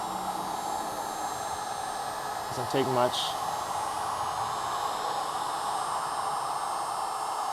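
A heat gun on low setting warming 3M adhesive tape, a steady blowing hum of hot air throughout, with a brief spoken phrase near the middle.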